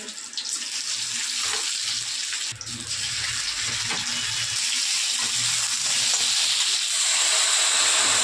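Tap water runs steadily into a sink as vegetables are rinsed under it, a constant hiss with soft splashes and brief clatters of handling close by.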